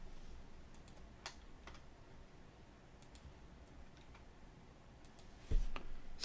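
Computer keyboard keys tapped at a desk while entering values in CAD estimating software, with scattered soft clicks and a firmer keystroke near the end, quiet and close with no talk.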